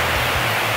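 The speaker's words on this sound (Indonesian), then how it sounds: "ini tuh sungai yang juga dilewatin oleh Arung Jeram" A river used for whitewater rafting rushes beneath a toll-road bridge near Bogor, a steady broadband roar of flowing water, close and continuous, with no speech.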